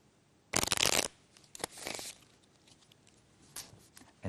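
A magic trick deck of cards riffle shuffled, a dense fluttering burst of cards zipping together near the mic, followed by a second softer riffle and a few light card taps and handling noises, no talking.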